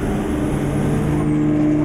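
A simulated APSRTC Super Luxury bus in Euro Truck Simulator 2, played on a Logitech G29 steering wheel, gives a loud, steady engine drone with a constant low hum and a faint high whine throughout.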